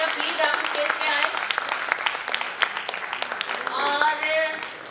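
Audience applause at a Founder's Day event, a sustained wash of many clapping hands welcoming a boy to the stage, with voices and cheering mixed through the crowd.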